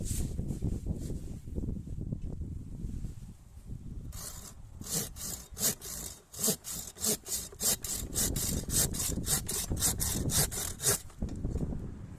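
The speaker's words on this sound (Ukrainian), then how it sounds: "Ну, ходімо, попиляємо." Vitals GS-360-01 garden pole saw cutting through wood outdoors: some handling and rubbing, then a long run of steady, rhythmic rasping saw strokes, close and fairly loud.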